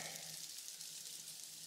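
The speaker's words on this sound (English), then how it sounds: "Oh, it's actually hailing." Hail falls on a forest trail on the Appalachian Trail, a faint, dense, continuous patter of small hits with no break across the short stretch.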